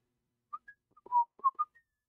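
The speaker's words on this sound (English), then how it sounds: "Anybody else want to whistle?" A person whistles a short, bright melodic phrase of several quick notes with small gaps, close and clear, with no talking over it.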